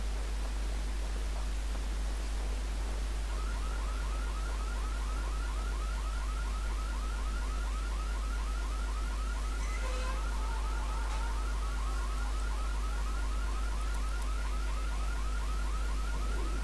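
An electronic alarm in the IGI 2: Covert Strike video game sounds at a weather station as a steady, rapidly pulsing warble held at even loudness over a heavy hiss, with no talking.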